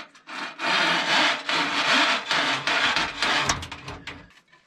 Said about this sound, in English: I gotta cut the cable